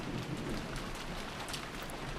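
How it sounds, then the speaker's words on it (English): Heavy downpour in the visual novel game Umineko When They Cry, a dense, loud continuous hiss of rain with low rumbling underneath, steady throughout with no voices. "As we opened the front door, the downpour was quite terrific."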